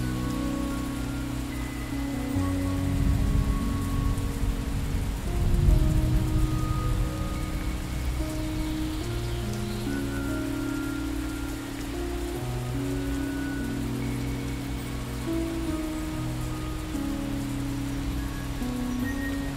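Steady rain patters on a surface as a dense, continuous hiss that swells briefly near the middle, with a low droning tone running underneath and no voices.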